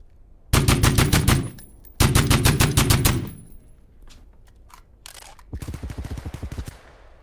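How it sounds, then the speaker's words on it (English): Video game gunfire with reloading while aiming: two loud bursts of rapid automatic fire, then a stretch of sparse mechanical clicks and clacks, and a final quicker run of shots. "this is the reloading while aiming."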